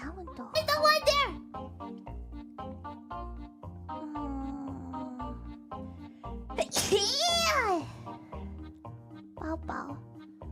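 A girl's sharp sneeze bursts out near the middle of a livestream, over a steady pulsing game music loop, with children's-style chatter and squeaky voice sounds before and after.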